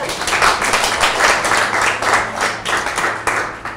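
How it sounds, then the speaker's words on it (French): Loud, close applause from a business seminar audience clapping for themselves, a crowd of hands beating in a fast, rhythmic, slightly synchronized pattern throughout. "Applaudissez pour vous-même."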